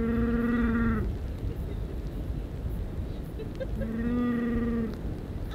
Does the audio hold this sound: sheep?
yes